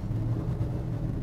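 A 1967 Ford F100 pickup truck drives along, its engine giving a steady, close, low rumble through a brief stretch with no voices.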